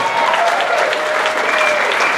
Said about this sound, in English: this guy really deserves a round of applause